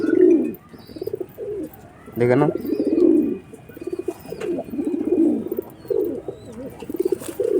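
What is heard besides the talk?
pigeon chick cooing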